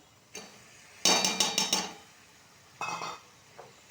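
Boiled moth beans tipped into hot oily masala in a pan, with a burst of metallic clatter and scraping from a spoon against the pan, a short pause, then another brief clatter, close and fairly loud.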